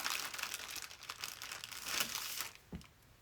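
Crinkling and peeling of the reflective X reflector sticker during Prusa MK4 3D printer assembly, a soft close rustle of backing paper with a brief snap near the end.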